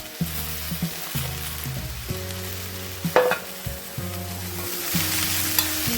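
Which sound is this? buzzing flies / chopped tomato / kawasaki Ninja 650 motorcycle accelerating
chopped tomato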